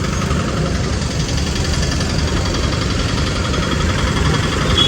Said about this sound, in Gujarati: ને આ છે આપણી બાઇક